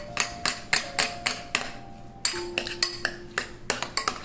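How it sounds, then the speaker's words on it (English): A metal spoon clinks rhythmically against a bowl while maple-flavoured syrup is stirred into chia seed pudding, a quick steady series of close, bright taps with a short pause midway. "I'm going to add that in and stir that up to make it sweet"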